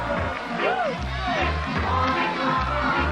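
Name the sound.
crowd at beach volleyball tournament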